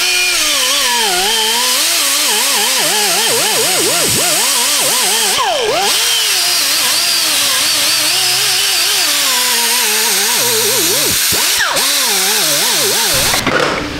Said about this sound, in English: we still got a drill in first gear